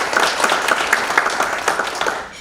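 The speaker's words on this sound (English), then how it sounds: "Can we give them a round of applause?" Audience applause at a government affairs forum in Greater Boston, a dense, steady patter of clapping from a crowd, moderately loud throughout and tapering off near the end.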